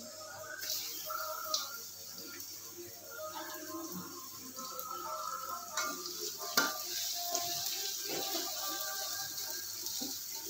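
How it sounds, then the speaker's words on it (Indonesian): Garlic and then shallots sautéing in hot oil, a steady close sizzle with stirring scrapes and clinks of the utensil throughout, no talking. "Minyaknya sudah panas, kita tumis bawang putihnya. Kemudian kita masukkan bawang merahnya."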